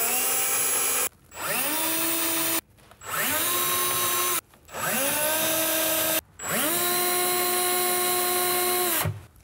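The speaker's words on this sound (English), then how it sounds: "put your pilot holes in place for your screws on all of the red spots" Power drill boring pilot holes for screws while fitting a soft-close larder runner, four sustained whining bursts that rise in pitch as the motor spins up, separated by short pauses, loud and close.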